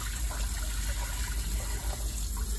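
Water pours steadily in a close, continuous splashing gush for a couple of seconds, with no talking.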